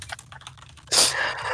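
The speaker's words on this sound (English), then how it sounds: "furious typing is intensifying" Rapid typing on a computer keyboard, a quick run of soft clicks that swells into a louder, denser burst of keystrokes, close and clear with no talk.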